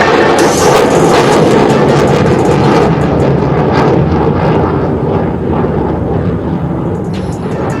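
A Tejas light fighter jet engaging its afterburners at the Aero India 2023 air show, a loud, continuous broadband roar that fills the whole stretch and eases only slightly toward the end.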